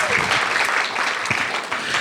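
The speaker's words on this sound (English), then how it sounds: "Yes, you can applaud." Audience applause fills a theater's main stage during a community reading art exhibit presentation, a dense steady clapping that stays loud and even for about two seconds with no talk over it.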